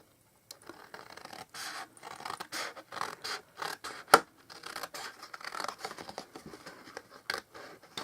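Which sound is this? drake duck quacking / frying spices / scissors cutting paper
scissors cutting paper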